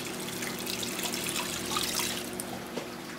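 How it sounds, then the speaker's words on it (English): Water pours steadily into a cooking pot as four cups are added to soy sauce for a braised beef brisket, a soft continuous trickle and splash heard fairly close with no talking. "Now we also want to add to that 4 cups of water."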